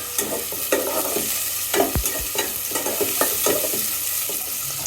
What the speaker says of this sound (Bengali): একটু পেঁয়াজগুলি ভাজা হয়ে গিয়েছে